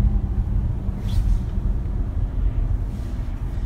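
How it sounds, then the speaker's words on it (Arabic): A 2015 Tesla electric car rolls along at speed, producing a steady low road and tyre rumble with a constant wash of cabin noise, heard from inside without talk. "هاي السيارة الكهربائية اللي هي تسلا"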